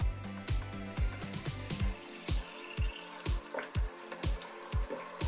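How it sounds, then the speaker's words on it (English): A dig-kit rock fizzes after water is added, a soft crackling fizz broken by regular sharp popping bursts roughly every half second, quiet and close, with no talking. "It's fizzing."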